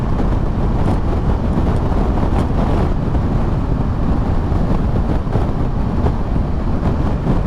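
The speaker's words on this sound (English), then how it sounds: "the wind has picked up" Strong wind roars steadily and loudly, buffeting the microphone in a constant low rumble beside a Triumph Tiger 1200 GT Explorer motorcycle.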